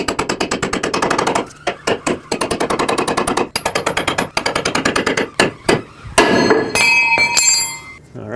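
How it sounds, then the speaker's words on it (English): A hammer strikes a pickle fork to separate the front lower ball joint stud from the knuckle on a 2005-2009 Chevy Equinox: rapid, loud metallic blows in fast rhythmic bursts, then a final clink and a ringing tone. "Now I'll take my pickle fork and hammer, try to separate this ball joint stud from the knuckle."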